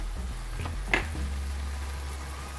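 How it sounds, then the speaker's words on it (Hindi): Half a cup of yogurt stirred into a hot pot of chicken malai handi, giving a soft sizzle with a few brief stirring scrapes, close and steady. "आधी कप दही है, ये दही मिला दूंगी।"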